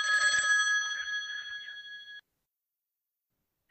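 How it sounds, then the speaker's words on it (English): A telephone bell rings in one long trilling burst that fades out, followed by a pause of silence before another ring begins abruptly at the very end. "See, the phone ringing."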